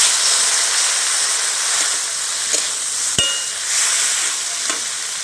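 Ground mustard paste and spices fry in a pan for a prawn and okra dish, making a loud, continuous hissing sizzle with a sharp metallic clink and occasional light stirring scrapes.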